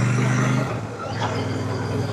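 A Royal Enfield motorcycle climbing an off-road dirt and gravel track over a mountain, its engine giving a steady, loud low drone with a slight dip in the middle before holding on.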